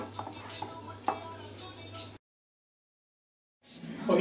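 Mixing cheese into masala pav filling in a pan, soft scraping and stirring strokes with a few light clinks, faint and close, broken by a short gap of silence before stirring resumes.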